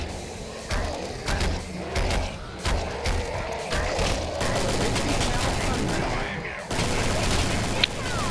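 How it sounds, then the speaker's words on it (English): Rapid hand cannon fire in a Killing Floor match, several sharp close shots in bursts mixed with other gunfire and game noise, with voices talking over the action. "Use of those hand cannons at point-blank range, really useful."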